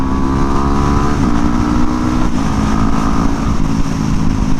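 Yamaha WR250X factory supermoto motorcycle engine running smoothly, a loud, close, steady buzzing drone with slight pitch dips as it shifts, heard alone without talk.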